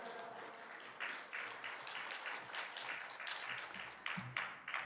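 A church congregation claps in applause for a pastor, a steady dense patter of many hands with some louder bursts near the end, fairly quiet overall.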